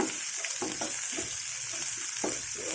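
Ginger and green chillies fry quietly in a pan, giving a soft continuous sizzle broken by a few light stirring scrapes.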